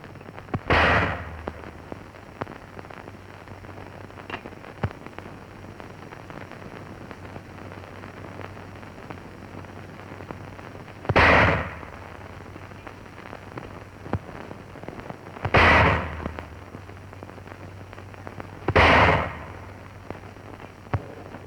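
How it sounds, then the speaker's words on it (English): A 1942 infantry gun crew fires 7-pound anti-personnel shells: four loud, booming blasts, each with a rumbling decay, spaced several seconds apart, with a low hum between them. "Here the crew is firing the 7-pound anti-personnel shell."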